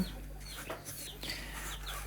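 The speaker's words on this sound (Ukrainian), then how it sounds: "Дуже гарні кури." Barbezieux chickens cluck softly in short bursts, close by, over a low steady hum.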